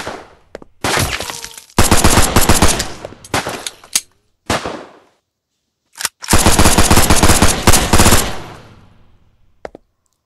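Automatic gunfire in the Roblox game Gorebox, two long loud bursts of rapid shots separated by shorter single cracks and brief pauses, with no talking.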